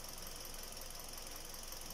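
Kia Rio car engine running steadily after a coolant replacement, a constant dense mechanical drone with no change in pace, recorded close with no speech.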